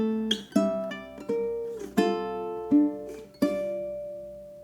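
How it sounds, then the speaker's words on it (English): Ukulele picking the two-bar intro of the Japanese folk song Sakura Sakura, slow plucked double-note phrases ringing out one after another, clean and close with no talking. "so here is measure 1. This is the intro."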